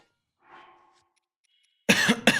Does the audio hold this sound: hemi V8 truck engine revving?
no